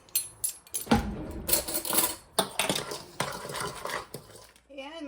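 Cajun seasoning gets mixed together in a bowl with a utensil, making a quick run of close, bright clinks and scrapes against the bowl with a few short pauses.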